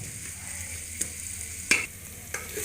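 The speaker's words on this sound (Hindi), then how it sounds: "इनको हम लोग अच्छी तरह मिक्स कर लेंगे और इनको अच्छी तरह ब्राउन करेंगे।" Onions frying and being stirred in a pan, a steady close sizzle with a few sharp utensil scrapes and knocks against the pan.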